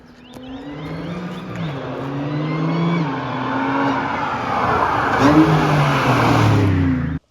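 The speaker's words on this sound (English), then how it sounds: "the noise from that V6 supercharged was absolutely insane" A supercharged V6 car engine revs hard and climbs through the gears, a loud, sustained throaty roar that rises and falls with acceleration.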